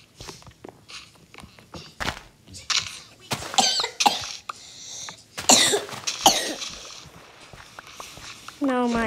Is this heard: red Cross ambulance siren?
no